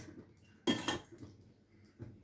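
Hardened sugar syrup for sesame chikki, set on a ghee-greased plate, gives one sharp clink near the middle and a fainter tap later, over quiet room background.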